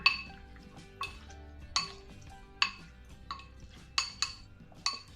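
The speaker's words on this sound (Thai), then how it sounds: "จากนั้นนะคะก็จะใส่น้ำมันมะกอกนะคะ ลงไปประมาณ ครึ่งช้อนถึง 1 ช้อนโต๊ะนะคะ แล้วเราก็ทำการคลุกเคล้าให้เข้ากันอีกทีหนึ่งค่ะ" Pork ribs being tossed with olive oil in a bowl for keto garlic-pepper ribs, heard as sharp utensil clinks against the bowl at a steady rhythm of about one per second, close and moderately quiet, with no talking.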